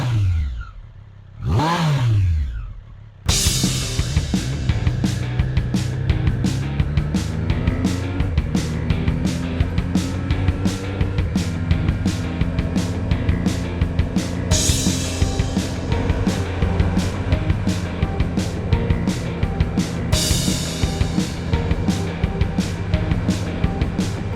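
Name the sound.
Triumph Street Triple 765 RS motorcycle engine riding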